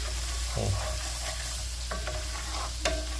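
Garlic sizzles gently in butter over low heat for honey garlic pork, a soft steady frying hiss with a few scattered spoon scrapes and taps, no voices.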